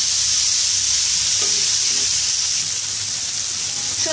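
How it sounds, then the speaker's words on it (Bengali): Mixed vegetables with chopped green chili fry in a pan, a loud continuous bright sizzle with steady hiss throughout. "এগুলোকে হালকা একটু ভেজে নিয়ে আমি চিকেন কিমাটা দিয়ে দেবো।"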